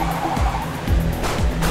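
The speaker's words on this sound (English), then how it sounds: "We're skidding around all over the place" Race car tyres skidding and squealing in the Trackday Manager racing game, several short screeches repeating over a steady engine drone, close and moderately loud.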